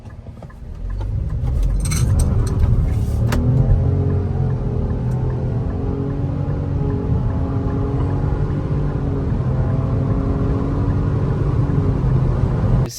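Engine of a Nissan Rogue with a CVT transmission, a steady low rumbling drone heard from inside the car while it is driven, loud and continuous with no talk.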